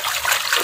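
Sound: water running while washing a BoBoiBoy toy

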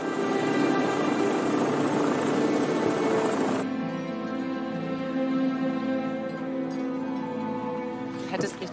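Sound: helicopter

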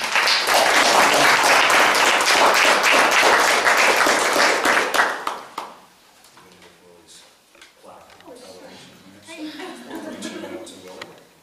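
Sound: audience applause for award-winning inventor

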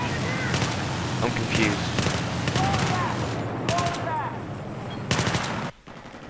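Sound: gunfire from the video game Battlefield 3

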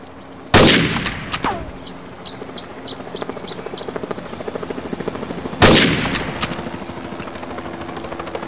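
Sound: gunfire in the video game Counter-Strike 1.6

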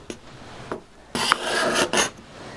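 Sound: card scraper scraping wood

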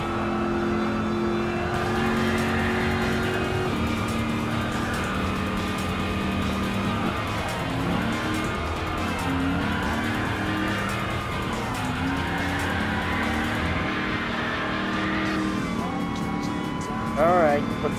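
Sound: Ford Mustang Mach 1 engine racing in video game Gran Turismo Sport

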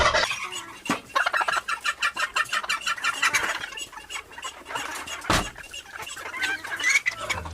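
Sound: chickens clucking

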